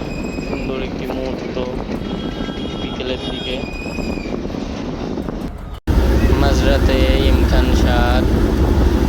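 Large three-deck passenger launch, the MV Emkan 7, coming in fast to a river ghat, its engine drone and churning water loud throughout, with a brief cut midway and a stronger roar after it, under general crowd noise.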